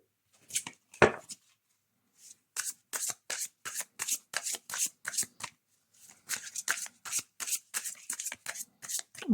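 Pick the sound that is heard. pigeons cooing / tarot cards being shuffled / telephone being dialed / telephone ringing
tarot cards being shuffled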